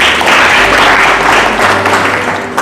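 Congregation clapping at a church service, a dense, steady wash of applause filling the whole clip at close range, fading slightly toward the end.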